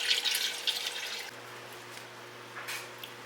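Water pours into a hydroponic reservoir, a splashing hiss that is strongest at the start, tapers off, then briefly returns, with a faint hum underneath and no talking.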